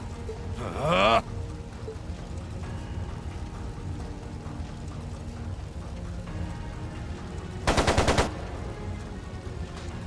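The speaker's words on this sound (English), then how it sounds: "It sounded like a machine gun." Machine gun fire in the video game Trails of Cold Steel II, two short loud bursts, one near the start and one near the end, over a quiet background score.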